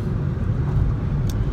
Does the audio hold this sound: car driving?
yes